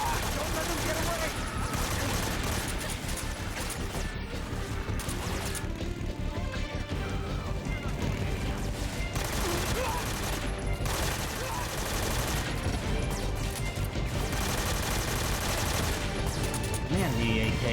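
Dense, continuous AK rifle fire in Metal Gear Solid 3 runs through the whole stretch as rapid bursts and overlapping shots, loud and close, with other game effects and crashes mixed in.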